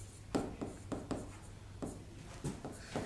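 Writing out a Hindi grammar definition by hand, quiet scratchy strokes arriving in short irregular bursts over a low steady hum, close and soft with no talk.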